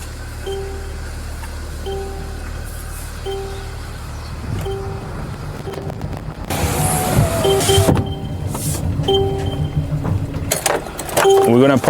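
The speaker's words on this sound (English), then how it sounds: "This engine sounds good." A Chrysler 200 with 65,877 miles, which had been overheating and leaking, idles with a steady low hum. Short repeating chime tones sound over it, and a louder broadband burst comes near the middle.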